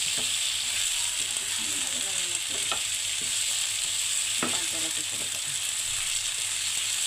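Coriander powder being stirred and fried in a pan in a home kitchen, with a steady loud sizzle and occasional scraping clicks of the spoon, close up.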